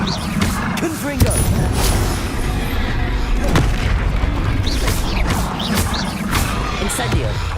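Confringo explosive spell blasts in Hogwarts Legacy combat, a thick run of booming, roaring bursts and crackle, with a strong hit early on, under a player calling out spells.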